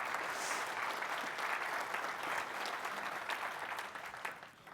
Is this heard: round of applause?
yes